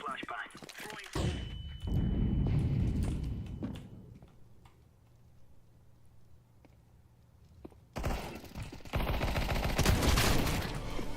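In Counter-Strike 2, a thrown flashbang and gunfire bring loud bursts of sharp shots and a bang, then a quieter stretch with a lingering hum before more heavy gunfire returns.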